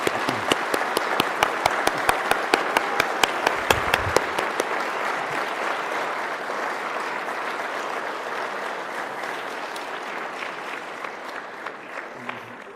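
A crowd applauds award recipients at the 2024 British Columbia Reconciliation Award ceremony, with a few loud, rhythmic claps standing out near the start before settling into sustained, even clapping that slowly fades.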